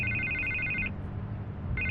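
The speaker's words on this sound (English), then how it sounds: "I can't get the phone to stop ringing." Telephone ringing in the Batman Telltale video game, a bright electronic trill that sounds for about a second, pauses, then starts again over a low background hum, with no speech.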